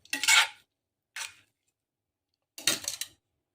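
Utensil scraping and clinking in a pan while stirring a chicken breast stir-fry with sauce: three separate short metallic scrapes with quiet gaps between, close and crisp.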